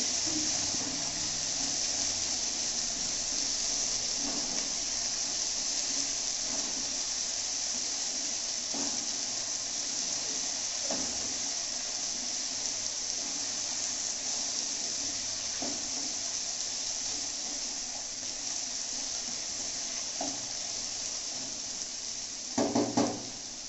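Potatoes and coconut fry together in a pan for a luchi and chholar dal meal, giving a soft, continuous close sizzle and hiss with faint stirring scrapes and a brief clatter near the end.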